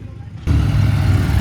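Triumph motorcycle with sidecar idling at an outdoor classic car breakfast meet, a steady close engine rumble that cuts in abruptly after a quieter moment and holds at a constant level.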